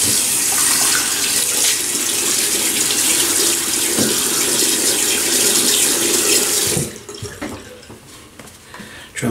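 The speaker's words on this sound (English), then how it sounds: "let's wet the face" Tap water runs steadily from a faucet into a sink while the face is wetted before shaving, a loud continuous splash that cuts off near the end, leaving faint dripping and handling noises.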